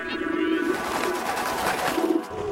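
Low, soft pigeon coos repeat over a steady background hum and rustle, fairly close and continuous throughout.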